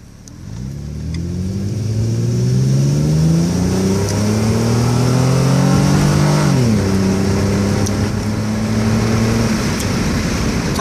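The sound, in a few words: Nissan Cefiro A33 engine revving at high RPM on road test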